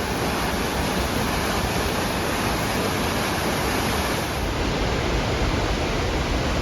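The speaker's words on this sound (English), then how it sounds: "this river is roaring from all the rainfall" The Housatonic River, swollen from heavy rainfall, roars in a loud, steady, unbroken rush of water that fills the whole scene with no voices.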